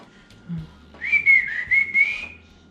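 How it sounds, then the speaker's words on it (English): A short, close whistled tune of a few wavering notes while preparing brisket, following a brief low hum, with no talking. "Shouldn't whistle while I'm doing this."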